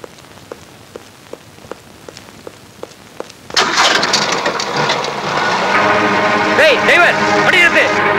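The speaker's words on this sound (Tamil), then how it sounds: "கொஞ்சம் தள்ளுங்களா, ஸ்டார்ட் ஆயிடும்" A car engine starts after being pushed, catching abruptly midway and settling into a loud, steady running roar; light tapping precedes it and voices are heard alongside.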